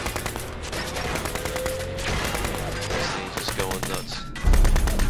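Gunfire from the Fallout 4 video game: dense repeated weapon shots over a busy game soundtrack, with a heavier, louder impact near the end.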